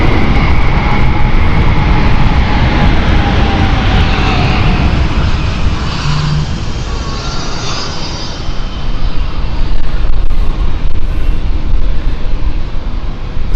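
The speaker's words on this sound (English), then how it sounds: "you can just hear that noise, the rookie sound, and you know straight away it's either an E2" An Embraer E2 jet passes low over London City Airport, a loud, continuous roaring whine that swells and slowly shifts in pitch as the aircraft flies by close overhead.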